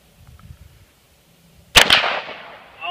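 A single sharp report from a Hi-Point gun fired at a shooting range, loud and close with a short echoing tail after quiet shuffling.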